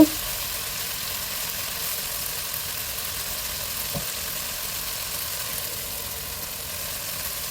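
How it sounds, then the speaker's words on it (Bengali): Spice paste with cumin powder and garam masala fries in a pan, giving off a steady, even sizzle close by that runs the whole time, with no talking. "জিরার গুঁড়ো দিয়ে দিলাম দিয়ে এখন মশলাটাকে আবারও একটু কষিয়ে নেব"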